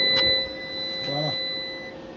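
A charger for a Peugeot 3008 hybrid gives a short electronic beep, a brief tonal chirp followed by a quieter two-tone sound about a second later, heard close and alone over a steady faint hum.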